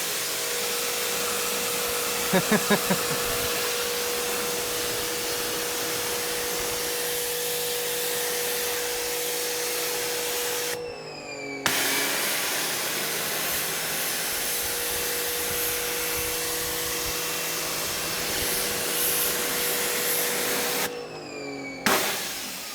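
New pressure washer spraying water, a loud steady broadband hiss with a motor hum, cutting off twice briefly as the trigger is released, with a few rattling knocks early on.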